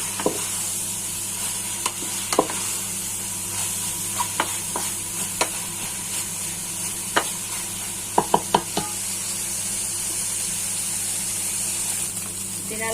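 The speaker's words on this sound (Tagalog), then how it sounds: "Haluin po muna natin at baka masunog ang ating pork mince at hotdog." Pork mince and hotdog frying in a pan, a steady loud sizzle throughout with sharp ladle taps and scrapes against the pan at irregular intervals, one quick cluster of clicks near the end.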